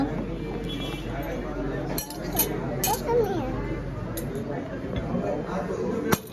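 A spoon clinks against dishes in a few sharp, bright taps spread through the clip, heard close under ongoing conversation and background room noise.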